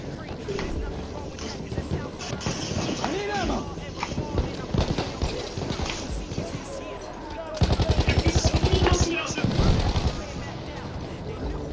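Gunfire from snipers and other weapons in the Battlefield 1 video game, with repeated sharp shots scattered across a busy battle mix and a dense burst of rapid fire near the end, heard under someone talking.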